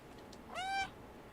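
A single clear cat meow from the video game Stray, rising then falling over about a third of a second against a quiet, faintly hissing background; no talking.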